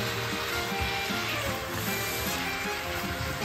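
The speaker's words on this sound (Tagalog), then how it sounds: "Ngayon, lagyan natin ng bagoong alamang, guys. Yan. Haluin natin." Shrimp paste being stirred into pinakbet with bitter melon in a hot pan, giving a steady close sizzle with soft scraping stirs throughout.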